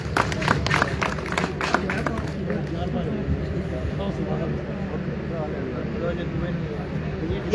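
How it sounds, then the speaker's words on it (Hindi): Audience clapping breaks out in a dense burst at the start, fading into a loose scattering of claps as a crowd murmur and voices carry on underneath. "तालियां भी इनके स्पेशल होनी चाहिए"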